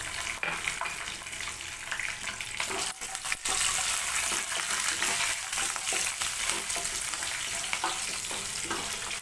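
Lentils fry in a pan for mango rice, giving a continuous crackling sizzle with a few louder clicks from stirring, close and steady throughout.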